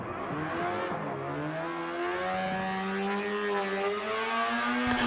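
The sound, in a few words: race car driving through a high-speed corner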